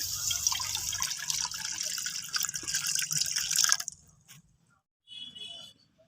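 Water poured into a kadai, a close splashing, gurgling stream lasting a few seconds before cutting off, followed by a faint brief trickle.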